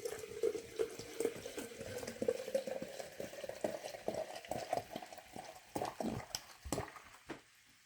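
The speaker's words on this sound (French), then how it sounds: "je vais remplir ce vase avec cette eau gazeuse." Sparkling water poured into a vase gives a steady trickling fizz, with some bubbling and faint clinks, close by and fairly quiet, with no talking.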